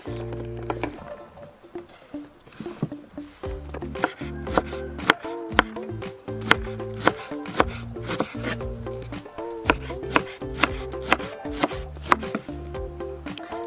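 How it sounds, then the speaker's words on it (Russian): Vegetables are chopped with a knife on a board in a home kitchen, with rapid, steady, close knocks and sharp taps in uneven bursts and short pauses throughout. "Этим временем занимаемся нарезкой овощей."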